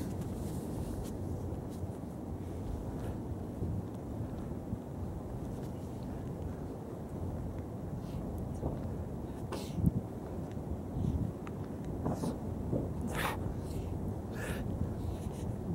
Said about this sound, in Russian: Серьезно, ветер еще дует.